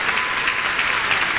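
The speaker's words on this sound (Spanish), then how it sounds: "Un aplauso para Orlando." Theatre audience applauding during a mariachi performance, a steady, dense wash of clapping throughout the short stretch, fairly close and even in loudness.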